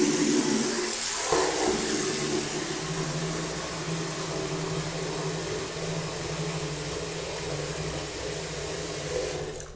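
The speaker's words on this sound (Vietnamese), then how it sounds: "ta sẽ xả nước vào xô này các bạn" Tap water gushes steadily into a bucket in a bathroom during cleaning, a loud, continuous rushing splash that holds for the whole stretch with no voices.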